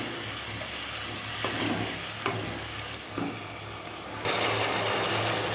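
Spices frying and stirred in a pan with tomatoes going in, a steady close sizzle with a few sharp scrape clicks, growing louder and brighter near the end.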